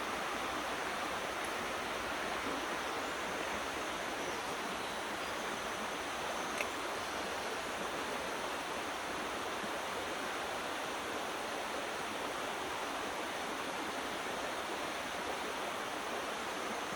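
Corsican river stream flowing steadily with continuous broadband rushing water, close and even throughout, with no voices.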